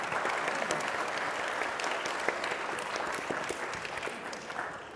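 A panel audience at an art talk gives steady applause for painter Peter Saul, heard as a fairly faint, continuous patter of many hands clapping throughout.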